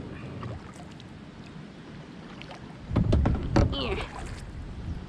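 Paddle strokes from a small boat while fishing on a flowage, soft watery splashes and knocks over wind noise outdoors, with a cluster of louder strokes midway; a person's voice is faintly present.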